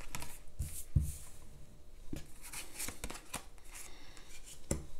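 Tarot cards being shuffled by hand in a series of soft papery riffles, rubs and slaps, with some sharper snaps at irregular intervals, close and fairly quiet with no voices.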